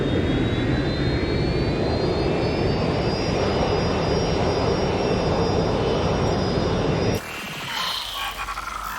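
An airplane in the video game Watch Dogs Legion roars past with a steady, loud jet engine drone and a slowly rising whine, cutting off abruptly near the end.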